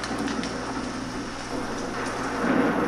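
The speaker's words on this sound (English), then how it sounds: "So far, we have a rainstorm." Rainstorm from a Halloween sound-effects CD: steady, dense hiss of heavy rain pattering on surfaces, with a low continuous rumble underneath and occasional sharper drop splats, holding even and swelling slightly toward the end.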